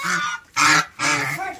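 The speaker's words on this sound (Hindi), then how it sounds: "ये बत्तख जो होती है फार्म के अंदर" Ducks on a farm quack in three loud, close, nasal bursts separated by short pauses, with no talk over them.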